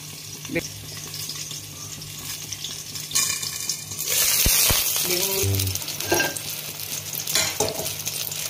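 Eggplant slices fry in oil in a pan with a steady close sizzle, while a spatula scrapes and a brief clatter and knock sound partway through; no talk.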